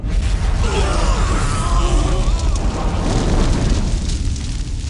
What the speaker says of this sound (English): On my command, fire the Titan cannon.